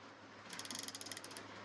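A Snap-on ratchet wrench clicks in a quick, even run of about a dozen sharp, close ticks lasting under a second, alone against a quiet background.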